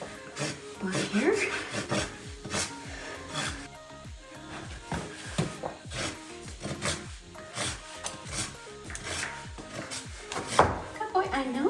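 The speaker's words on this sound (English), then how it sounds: "I can do a bit of rasping" A hoof rasp scrapes a horse's hoof in a series of short, uneven strokes, close and moderately loud, with a person talking quietly at times between the scraping.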